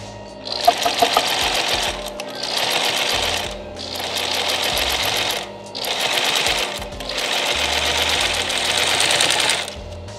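A sewing machine stitches the seam of a five-panel camp hat in several loud, close bursts of fast mechanical whirring, each lasting a couple of seconds and separated by short pauses.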